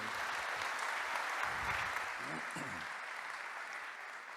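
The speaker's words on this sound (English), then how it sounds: "A round of applause for you," A conference audience at a tech event on generative experiences applauds, a dense, steady wash of clapping at moderate distance that holds evenly for several seconds before easing slightly, with faint voices beneath.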